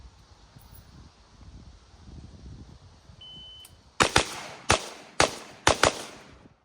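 AR-15 rifle fired during a live fire training session: a quiet stretch, then about six sharp, loud cracks in quick pairs and singles, close by, with no talking.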